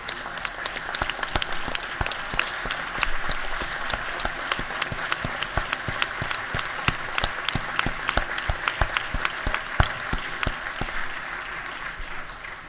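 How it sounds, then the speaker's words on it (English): A round of applause fills the House chamber during a legislative session, with sparse, uneven individual claps scattered across the room that keep going steadily at moderate volume, without voices. "maybe we can give them and our folks up here on the podium a round of applause"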